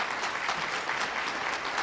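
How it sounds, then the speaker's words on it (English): An audience claps steadily at a gathering honoring journalism organizations, a dense, even wash of applause filling the whole short moment with no voices over it. "Let's give them a round of applause as well."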